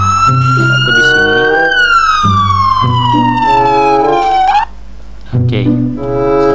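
A loud ambulance siren in a video game wails in a long rising then falling sweep, with background music and game sounds underneath; it cuts off briefly before the music resumes.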